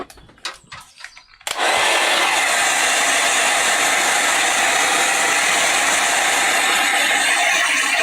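A heat tool starts up with a sudden click after a few quiet handling sounds, then blows a loud, steady whooshing roar close by while drying stencilled watercolour card.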